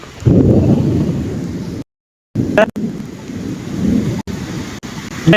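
Thunder rumbling during a heavy rainstorm in New York State, loud low roaring close by with steady rain and wind, briefly cutting out midway.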